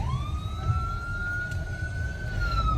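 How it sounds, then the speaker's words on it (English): An ambulance siren passes a van on the road, holding a steady, loud wail over continuous engine and road rumble throughout. "Sorry, there's an ambulance passing us."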